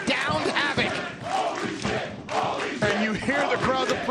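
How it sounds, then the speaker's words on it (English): Pro wrestling arena crowd cheering and shouting at a tag-team match, a dense, loud roar of many voices that swells and dips across the few seconds with no commentary on top. "you hear the crowd's appreciative of the effort of Tasha Steelz"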